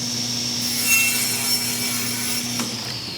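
A table saw runs with a steady high whine and low hum as a wooden board is fed against the fence, the blade biting in with a gritty rasp that swells slightly and then eases, loud and close with no talking.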